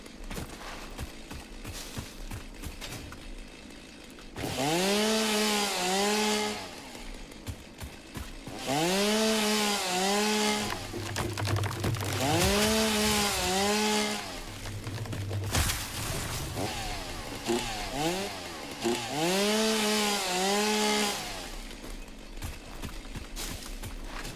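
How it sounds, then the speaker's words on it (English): A chainsaw cuts through biomass in the video game Satisfactory in several long revving bursts, each whine rising and falling in pitch, separated by short lulls with a constant busy game-sound bed underneath. "sweet, sweet sound of a chainsaw"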